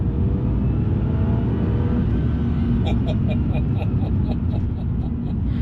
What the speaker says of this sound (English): drop it down a couple of gears into fourth, into third, and just squeeze on the throttle a little bit